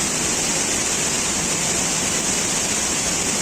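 A monsoon waterfall near Jagdalpur, Chhattisgarh, pours over a drop in a steady, dense roar of rushing water, loud and close, with no voices over it.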